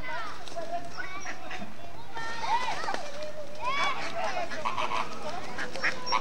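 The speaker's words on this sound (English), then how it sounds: "Ducks flapping around." Ducks in a park quacking and calling with some flapping, fairly close with other birds around, heard under steady talk from a person nearby.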